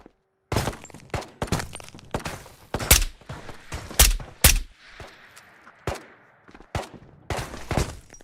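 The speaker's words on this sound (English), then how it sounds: "Are those fireworks messing with your hearing?" Fireworks going off in the VR shooter Ghosts of Tabor, a rapid string of sharp loud bangs and cracks in irregular bursts, some with crackling tails, close and alone without talk.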